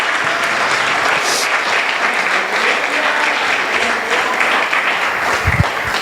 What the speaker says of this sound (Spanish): Pero antes, denle un aplauso,